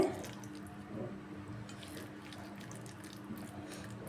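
Soft, wet squishing of fish fry masala paste being mixed with chopped curry leaves, faint and steady throughout with small dripping, liquid textures and no talking.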